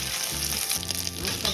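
Dried loitta fish (Bombay duck) sizzles and crackles steadily in hot oil in a pan, a close, continuous frying hiss with faint stirring.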